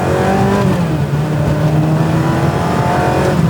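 A Ferrari 360 with about 45,000 miles revs and accelerates hard, its loud engine note rising and holding steady at close range with no talking.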